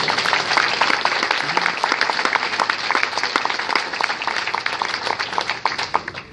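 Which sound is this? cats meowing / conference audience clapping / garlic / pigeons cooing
conference audience clapping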